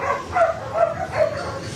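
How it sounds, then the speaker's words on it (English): Several dogs bark at an animal shelter, with three evenly spaced barks rising over a steady background murmur, moderately close and fairly loud. "Jonathan, we can hear the dogs barking behind you."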